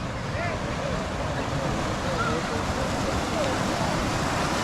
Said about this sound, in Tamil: தண்ணி பார்த்தீங்கன்னா பரவாயில்லைங்க, ஓரளவு மீடியமாக தான் போயிட்டுருக்கு